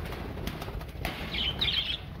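A bird flies in a backyard aviary where pigeons and parrots are kept, giving a short, soft flutter of flapping wings over a low background rumble, with no talking.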